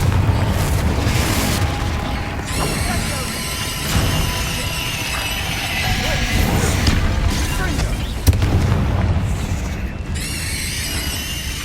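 Repeated fiery spell blasts from the Confringo curse in the Hogwarts Legacy video game, booming explosions with crackling bursts and debris rumbling across the whole span, one sharp hit standing out near the end, no speech.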